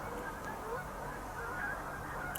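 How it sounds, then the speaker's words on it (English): A flock of geese honks faintly as it flies over, distant calls scattered over a soft outdoor background hiss. "so that's a flock of geese coming over"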